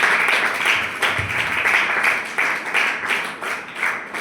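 An audience at a church worship service claps in loud, continuous applause, a dense patter of many hands with brief surges and dips, close and filling the room.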